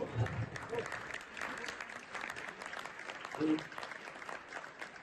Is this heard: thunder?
no